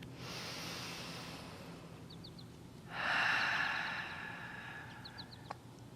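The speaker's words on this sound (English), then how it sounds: "In big, deep breaths here." Deep breaths during a yoga session outdoors: a slow inhale, then a long loud exhale close to the microphone, with faint birdsong in the background.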